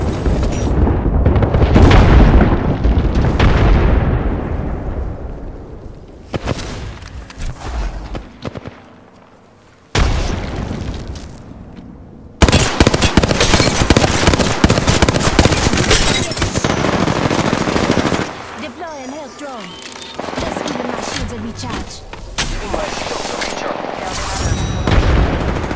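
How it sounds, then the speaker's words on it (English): Airstrike explosions in Apex Legends come as a string of heavy, loud booms and crackling blasts, with bursts of rapid gunfire between them and brief quieter gaps. "We've got some airstrikes on the knee."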